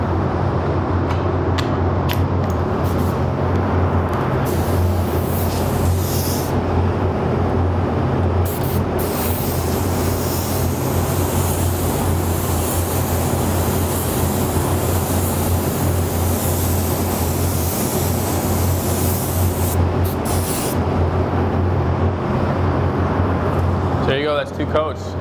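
A spray gun lays a second coat of metallic gold base-coat paint onto a panel, a steady continuous hiss of compressed air and paint mist that runs almost unbroken, near and fairly loud.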